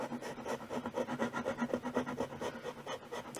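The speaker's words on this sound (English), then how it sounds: "So it looks like I can kind of scrape some of that surface." A chisel scrapes finish off the wooden body of a ukulele near a glued bridge, giving quick, rhythmic rasping strokes close by and fairly soft, with no voices.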